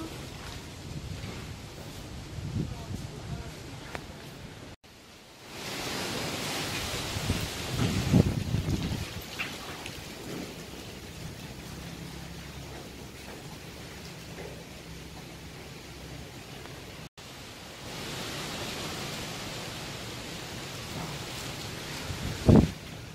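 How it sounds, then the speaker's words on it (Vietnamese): Strong wind blows through a banana garden ahead of rain, a steady roaring rush with gusts swelling and easing, loud and close, with occasional rustling thumps. "gió quá chừng gió"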